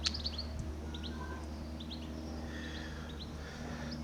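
Backyard garden birds chirping in short, high, scattered tweets over a steady low background hum, moderately distant and fairly quiet, with no talking.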